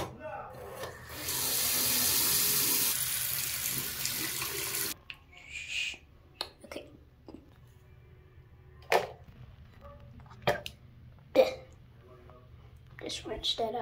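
Water runs from a tap in a steady rush for several seconds while someone rinses, then cuts off, followed by scattered clicks, knocks and brief household sounds.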